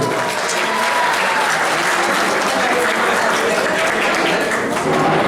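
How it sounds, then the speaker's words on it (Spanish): At a high school literature, horror and suspense evening, the crowd gives a class of students a loud, sustained round of clapping, a thick and even roar of many hands without pause. "Un aplauso nuevamente para ellos."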